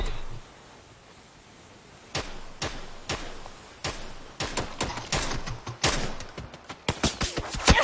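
Gunfire in an online shooter game: after a quiet stretch, sharp bursts of shots begin, first spaced single cracks and then rapid clustered volleys growing louder toward the end, with no speech over them.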